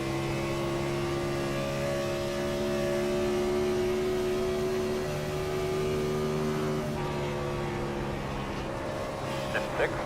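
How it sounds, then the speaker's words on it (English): A NASCAR race car engine runs at Atlanta with a steady, loud harmonic drone that holds even and close for the whole stretch, with no break in its tone. "Will you listen to this engine purr?"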